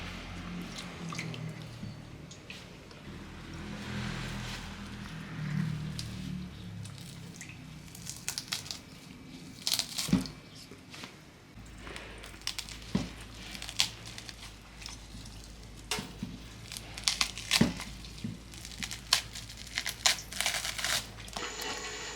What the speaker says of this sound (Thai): ฉีกเนื้อนะครับ คุณดูนะ ฉีกออกมาแบบนี้เนาะ ให้เป็นชิ้นเล็กๆ